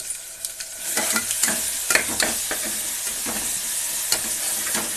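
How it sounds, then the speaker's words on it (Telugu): Masala for an okra curry sizzles steadily in hot oil in a pan while a utensil stirs it with repeated scraping strokes, close and fairly loud, with no talking. "ఈ మసాలాను మనం బాగా వేగనివ్వాలి."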